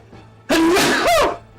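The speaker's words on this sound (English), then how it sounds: "Oh, I'm gonna sneeze." A single loud, drawn-out sneeze bursts in after a near-silent moment, a voiced, rising and falling blast lasting close to a second, up close with no talk over it.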